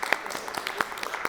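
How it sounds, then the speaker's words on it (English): Light, scattered applause from an audience at a lecture event, a thin patter of claps that stays steady and moderate. "round of applause"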